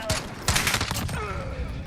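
An MK 14 EBR Mod 0 7.62x51mm gas-operated rifle fires in Call of Duty Modern Warfare, loud close shots rolling into dense overlapping bursts with a ringing tail.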